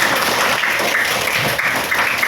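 Classroom applause from teachers in a training session at Universitas Syiah Kuala, a dense steady patter of many hands clapping throughout, fairly loud and close, with no talk over it.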